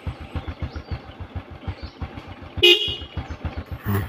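A Denso car horn, as fitted to a Toyota Fortuner or Innova, blasts once, loud and close, on a Honda Supra X 125 R motorcycle after a stretch of its engine idling with a steady rhythmic putter.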